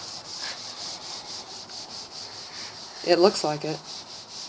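Fine 3000 grit sandpaper rubs back and forth over car paint to flatten orange peel, making a steady rhythmic scratchy hiss of repeated strokes, with a brief spoken remark near the end.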